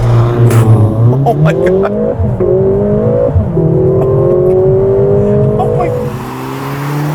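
A 2021 Mercedes-AMG GLA 45 compact SUV launches from a race start in race mode, the engine roaring loudly and rising through quick gear changes from inside the cabin while someone exclaims over it.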